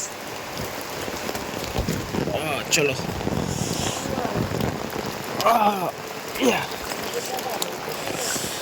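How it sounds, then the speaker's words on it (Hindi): Heavy rain pours steadily, drumming on a surface, while people talk intermittently over it. "बहुत बारिश"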